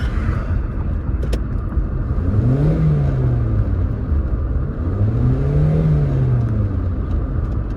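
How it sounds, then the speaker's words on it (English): A 1997 Toyota Corolla engine with a cold air intake idles steadily, then revs up and back down twice in neutral, two smooth rising-and-falling swells, close and loud. "There we go, 2 low revs there"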